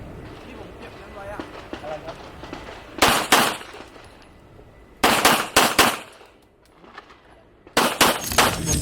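A sport pistol fires sharp, loud shots in quick groups of three or four, with pauses between the strings, while a voice talks quietly beforehand.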